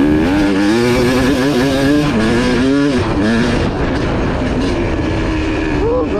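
Off-road motorcycle on a dirt track at Prairie City SVRA, its engine revving hard and rising through the RPM in repeated sweeping pulls, loud and close throughout.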